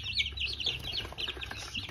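Turkey poults let out of a small box chirp and peep continuously in a dense, high-pitched chorus, close by, over a low steady background rumble.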